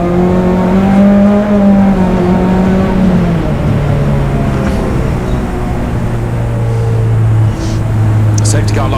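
A Puma Cup race car at Donington Park runs under safety car conditions, its engine droning loudly nearby with a note that sags and settles lower as it goes by.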